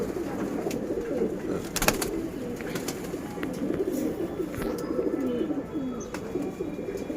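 A loft full of pigeons, including squabs and moulting cocks, keeps up a steady, dense murmur of cooing close by, with occasional sharp clicks and wing sounds over the continuous low throaty burble.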